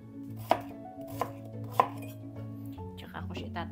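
A knife chops potatoes into cubes for chicken adobo. Three crisp, separate chops land on a board, followed by softer shuffling kitchen clatter, all close and fairly quiet.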